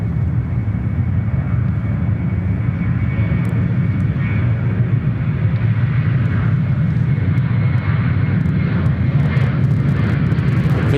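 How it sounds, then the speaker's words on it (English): A Qantas Boeing 737 fitted with split scimitar winglets flies past Sydney Airport, its engines giving a loud, steady, deep roar that holds throughout with no voices over it. "Here comes our one of 2 split scimitar Qantas 737s."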